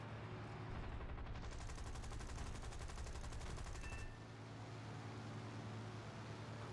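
Sustained rapid gunfire from fighter planes in War Thunder, dense and loud for about four seconds over a steady engine drone, then cutting off as the engine hum continues alone.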